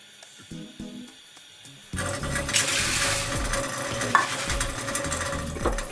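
Two cups of water pour steadily into a container of red beans, a broad rushing splash that starts abruptly after a quiet moment of small clinks and continues close by.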